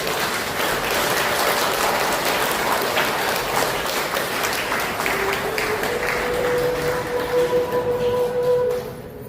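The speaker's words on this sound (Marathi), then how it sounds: "सर्वांनी स्वतःसाठी एकदा जोरदार टाळ्या होत जाऊ दे" A group claps together after completing 108 sun salutations, a dense, steady roar of applause filling the room and holding for most of the stretch before tapering off.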